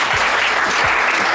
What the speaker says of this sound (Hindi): शैलेंद्र के लिए भी तालियां बजाओ भाई।